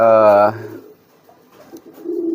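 A pigeon gives a loud, close coo at the start, followed by softer, muffled cooing and low fluttery sounds.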